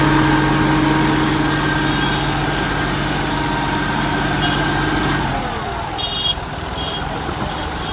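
A tractor engine drones loudly and steadily at a village tractor race, its low tone cutting off partway through and leaving a rougher, quieter rumble with a few brief high beeps.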